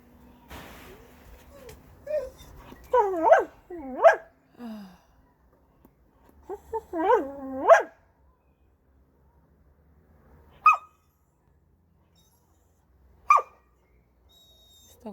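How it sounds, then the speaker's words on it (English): A dog gives a series of whining, yelping barks in short bursts, then two isolated sharp barks after pauses, fairly close in a quiet setting. "Oh, I know why she's barking."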